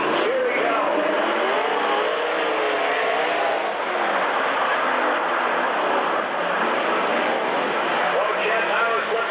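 At the start of a six-lap sprint car race at a speedway oval, several cars roar together in one loud, continuous, dense engine blare that holds steady throughout.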